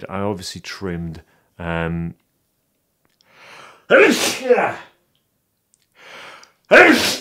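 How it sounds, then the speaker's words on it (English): A person speaks briefly, then a sharp gasping intake leads into a loud, explosive sneeze, followed by another burst near the end. "That was a sneeze and a half."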